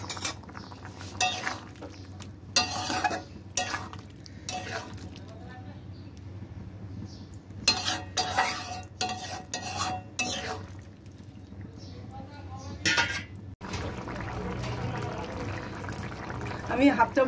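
Paneer added to boiling gravy in a pan and stirred, with irregular scraping and clinking spoon strokes in bursts, then a steadier bubbling simmer toward the end; a voice talks between the strokes.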